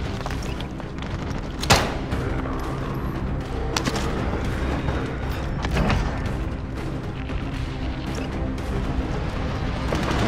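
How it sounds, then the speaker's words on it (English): A frag grenade lands and explodes in Call of Duty: Modern Warfare, a sharp boom standing out early from a dense, loud battle din that continues with further impacts and rumble. "I'm gonna throw out a frag."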